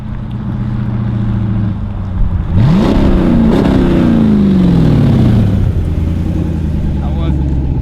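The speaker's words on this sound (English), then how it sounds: "it just sounds like we don't have an exhaust, which we don't have an exhaust right now." A Jeep SRT8 with no exhaust fitted idles loudly, then revs up twice in rising, rough bursts before settling back to a deep, raw idle. People talk over the engine throughout.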